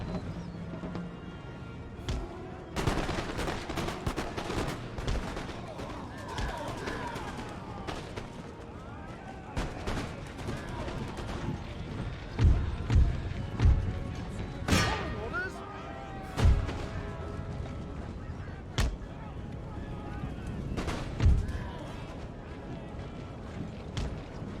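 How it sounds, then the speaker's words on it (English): Artillery cannons in Empire: Total War, playing as Prussia, fire into enemy ranks with scattered sharp booms over a low battlefield rumble, some shots distant and some near, while a person talks. "turn the guns onto them. And we'll just fire like through the center of the ranks"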